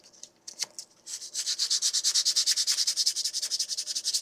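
Sanding the jagged edges of a 3D printed Wolverine claw starts with a few scattered scrapes and taps, then settles into steady, rapid back-and-forth gritty strokes, close up and fairly loud.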